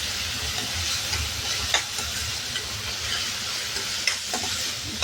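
Moong dal fries in hot oil in a pan, a dense continuous sizzle and hiss, close and fairly loud, with a few occasional stirring scrapes on top.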